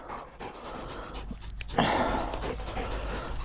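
Dogs panting at a vineyard, rapid rhythmic breathy pants close by, growing louder and busier partway through and continuing without speech.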